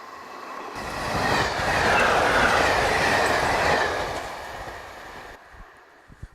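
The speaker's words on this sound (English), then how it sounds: "Once the train has passed" A train rumbles past a user-worked level crossing at close range, swelling to a loud roar with rattling wheels, then fading away with a few clacks at the end.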